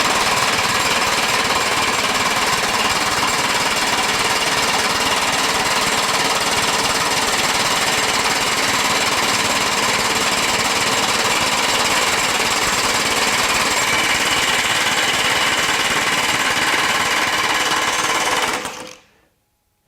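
A Kobalt XTR 24V high-torque impact wrench (KXIW 1424A-03) hammering on a bolt in mode 1, a loud, continuous rapid rattling buzz held for nearly twenty seconds before stopping abruptly, with no talk.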